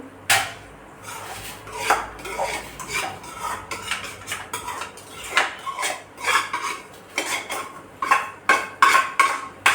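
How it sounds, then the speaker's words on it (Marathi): A metal utensil scrapes and knocks against a pan as roasted semolina is transferred onto a plate, producing a series of sharp, irregular clinks and scrapes at close range. "हा इथे ताटात आपण काढून घेऊया"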